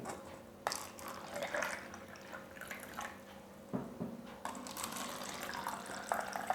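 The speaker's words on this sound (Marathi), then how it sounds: "सारखेच पाणी भरून घ्यायचे आहे" Water trickles and splashes steadily into a glass, with a few small knocks and clinks along the way, close up and fairly quiet, no talking.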